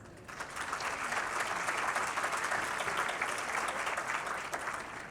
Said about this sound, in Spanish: También recibimos con fuerte aplauso a Álvaro Ramírez Alujas.